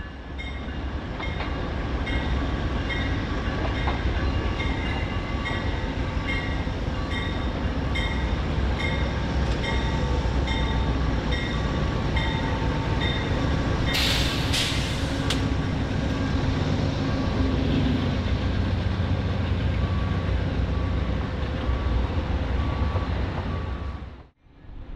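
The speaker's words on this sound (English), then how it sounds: "Lakeshore Limited was arriving from Boston and New York City." An Amtrak Lake Shore Limited passenger train from Boston and New York passes on a busy Chicago commuter main line near Roosevelt Road, with a loud, steady rumble and rail clatter that hold for about twenty seconds before fading.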